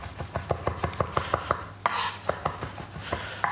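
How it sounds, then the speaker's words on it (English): Rapid knife strikes mince food finely on a chopping board during meal prep, quick rhythmic taps close by with a brief scraping sweep midway before chopping resumes. "Keep going, guys, until this is literally minced through."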